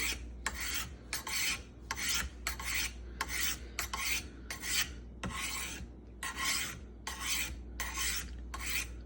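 A knife blade scrapes rhythmically along a diamond honing rod, about a dozen quick rasping strokes in a steady back-and-forth pattern, close and clear.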